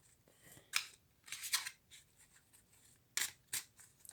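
A deck of tarot cards is cut and shuffled close by, giving several quick crisp riffles and slaps of card stock in uneven bursts, with quiet pauses between them and no talk.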